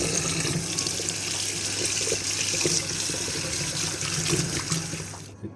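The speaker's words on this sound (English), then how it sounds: "let's go rinse it off and see how" A desktop computer part from an IBM ThinkCentre M50 is rinsed under a running tap. Water splashes and gushes continuously and fairly loudly at close range before cutting off at the end.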